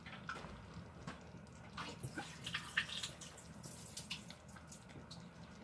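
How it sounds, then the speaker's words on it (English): Cooking water is drained off boiled food, with a steady splashing, trickling pour and faint drips close by in a home kitchen, no talking. "I just drained the water off of them."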